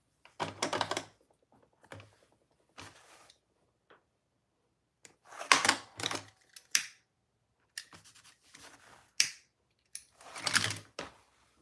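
Sharp, separate clicks and thumps from a rivet being set on a sewn bag project, several short bursts spaced over the stretch with quiet gaps between them, close by and fairly loud.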